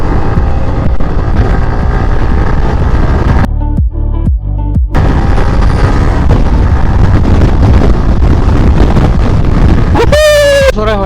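A Yamaha R15 motorcycle's exhaust drones loud and close outdoors, with brief throttle dips and a rising rev near the end, mixed with wind buffeting on the microphone.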